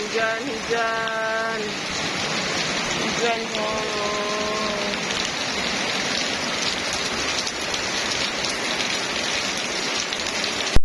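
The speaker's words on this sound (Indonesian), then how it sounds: "Hujan." Steady, dense rain pours onto a surface in a village setting and keeps up an even hiss throughout. A couple of brief tonal calls or voice-like sounds rise over it early on.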